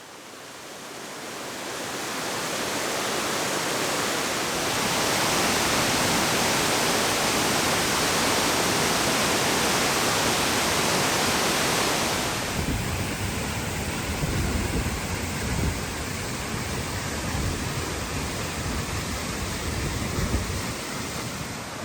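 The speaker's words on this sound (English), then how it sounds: "below the waterfall, the creek empties into the lake" A waterfall pours into a creek that empties into a lake in Canada, giving a steady, loud, broadband roar that carries unbroken from start to finish with no voices.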